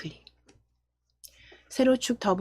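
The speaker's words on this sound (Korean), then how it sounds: "세로축 더블 클릭하실 거예요" A computer mouse double-clicked on a chart axis while editing a PowerPoint chart: a faint, quick pair of clicks set among a man's spoken instructions in Korean.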